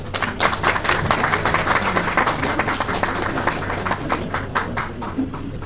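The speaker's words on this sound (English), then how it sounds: "Please give me a round of applause, please." Audience at a Nigerian university event marking a UK–Nigeria education partnership signing claps for a speech, a crisp, fairly close round of many individual hand claps that keeps up steadily to the end.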